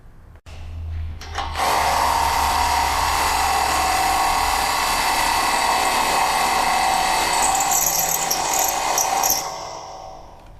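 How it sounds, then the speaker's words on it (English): A handheld sharpening tool grinds a burr off the cut end of a threaded rod, a steady high-pitched whining grind that starts after a second and runs loud and continuous for about eight seconds before dropping off. "I'm going to use the sharpener so the nut can go on"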